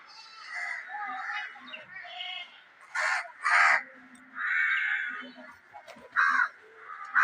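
Crows cawing repeatedly and loudly, harsh calls overlapping in bursts from several birds nearby, continuing for several seconds.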